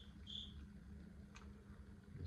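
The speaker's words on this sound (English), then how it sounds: "These fucking crickets," Crickets chirp at night in a quiet outdoor spot, a faint steady insect trill holding through the whole stretch with a few brief higher buzzes.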